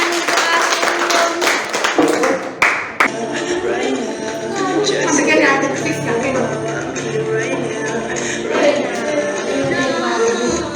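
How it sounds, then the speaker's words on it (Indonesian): A classroom of students bursts into dense, sustained applause for a classmate during a lesson. The clapping is loud and fills the whole stretch. "Oke, tepuk tangan untuk Arum."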